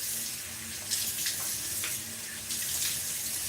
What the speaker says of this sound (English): Let me wash up real quick.